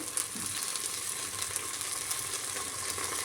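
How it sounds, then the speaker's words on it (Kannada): Coriander paste for chicken biryani frying in hot oil, a continuous crackling sizzle with small spits and pops, close and steady, with faint stirring clinks. "ಸ್ವಲ್ಪ ಎಣ್ಣೆಲೆ ಫ್ರೈ ಆಗಲಿ"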